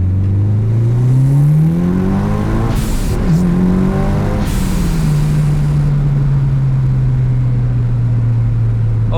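A turbocharged 4G63 engine in a 260 kW Mitsubishi Evo 6 pulls hard and loud from inside the car, revving up through the gears with a brief drop at a shift, then droning steadily at high load with turbo whoosh.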